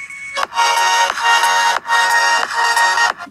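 An OPPO F19 phone plays music through its single speaker, a loud, bright tune that runs in several bursts with short gaps between them.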